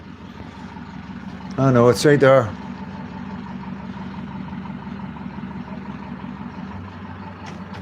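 A skip lorry idles outside a house, its steady low engine rumble running continuously beneath a brief burst of nearby talk.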